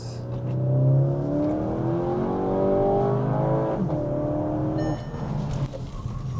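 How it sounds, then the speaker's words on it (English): A 400 hp Skoda engine revs hard, its turbo spooling up in rising, wavering sweeps, then settles into a lower throaty idle with a brief whistle near the end. The sound is loud and close, with no talking. "the turbo takes time to spool up, right? And then it gives you a surge of power."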